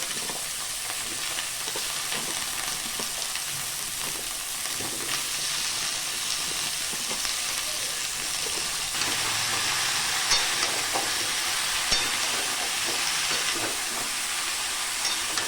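Potatoes sizzle steadily in hot oil in a frying pan while being stirred for a Bengali echor kosha, a jackfruit curry, with a continuous hissing fry and scattered scraping clatter.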